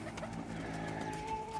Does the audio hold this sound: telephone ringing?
no